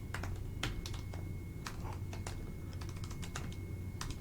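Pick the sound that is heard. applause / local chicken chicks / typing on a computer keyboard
typing on a computer keyboard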